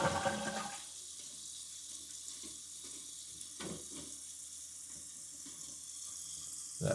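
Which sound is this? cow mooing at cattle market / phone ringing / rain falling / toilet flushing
toilet flushing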